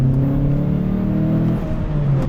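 An MG F sports car's engine drones at a steady rev, its intake sound prominent, loud and close throughout, a dip in pitch toward the end, no voices.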